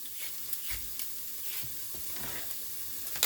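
Vegetables with garlic being stirred in a pot for split pea soup, a soft continuous scraping and shuffling with a few light knocks against the pot, close and steady, no talking.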